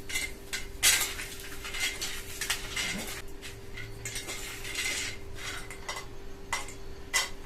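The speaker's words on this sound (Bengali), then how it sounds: "যে বাদামটা ভেজে রেখেছিলাম খোসা ছাড়িয়ে নেব।" Roasted peanuts are shelled by hand, producing close, dry, crisp cracks and rustling clicks in quick irregular bursts with short pauses between them.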